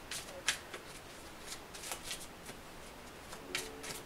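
Tarot cards are shuffled and pulled close by, soft riffling and flicking bursts with light slaps in an irregular rhythm, fairly quiet, with faint voice underneath.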